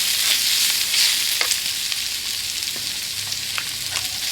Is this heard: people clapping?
no